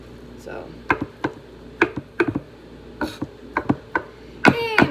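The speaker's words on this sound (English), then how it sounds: "and we just keep chopping away." Chopping food on a cutting board in a home kitchen, a string of sharp knife knocks in an uneven rhythm, close and moderately loud, with a burst of faster taps at the end and no speech.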